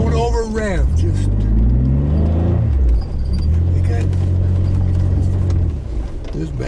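A car engine revs while backing up through fresh snow, rising in pitch, dropping briefly, then holding a steady strained drone close by, with voices in the background.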